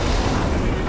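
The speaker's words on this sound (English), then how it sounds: "Ah, oh, man, this is gonna explode." Explosion in the video game Borderlands 3, heard as a brief, dense, loud roar that fills the whole moment with a heavy low rumble.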